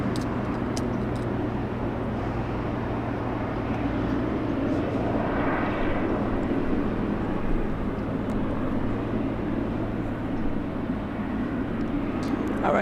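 A Delta airliner flying in from Denver lands at LAX, its jet roar steady and fairly loud throughout under an engine rumble, with a voice talking over it.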